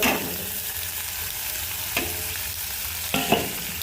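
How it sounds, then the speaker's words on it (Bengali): Onion, tomato, chilli, turmeric, cumin, coriander powder and ginger paste sizzle steadily in a hot pan, with a couple of stirring scrapes cutting through the frying hiss. "দিয়ে এগুলো ভালো করে ভাজা ভাজা করবো"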